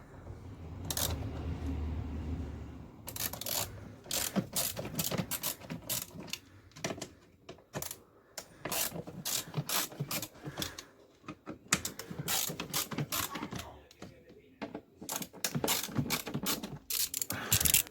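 A hand ratchet clicks in quick bursts while Torx screws are worked on the vacuum pump of a BMW E46, the sharp close-up ratcheting starting and stopping repeatedly with short pauses between runs.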